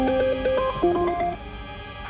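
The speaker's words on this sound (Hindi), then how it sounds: "एटलीस्ट तू उसका फोन तो उठा," A phone ringtone plays a bright electronic melody, loud and close, with the tune running steadily for about two seconds before cutting off.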